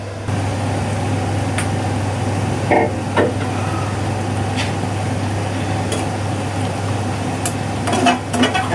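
Taro being pan-roasted and stirred in a pot sizzles faintly over a steady low stove hum, with a few scattered scraping and clinking stir sounds, no talking.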